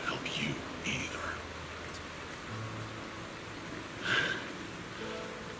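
Steady rain in the video game Zenless Zone Zero, a soft, even wash of falling drops with faint patters, heard alongside low voiced dialogue and occasional brighter game sounds.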